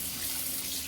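Very hot water pours steadily into a bread machine pan for sourdough, a continuous close splashing stream with no pauses.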